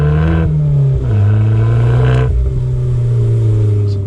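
An Abarth 595 Competizione's four-pipe exhaust rumbles loudly up close, its engine note dipping and rising through a few revs with a deep, steady growl.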